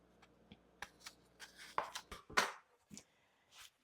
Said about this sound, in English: I'll just keep cutting up apples for now